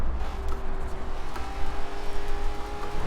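A car engine in Forza Horizon 4 after a downshift, played with a steering wheel and shifter, holds a steady, moderately loud drone with a faint whine through the short stretch, with no talk.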